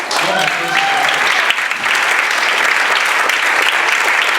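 A room of attendees at a Republican Women Federated candidates night in Camarillo breaks into loud, sustained applause for a councilman, continuous and close, with a voice briefly audible at the start.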